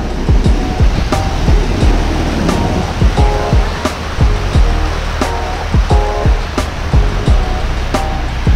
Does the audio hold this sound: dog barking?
no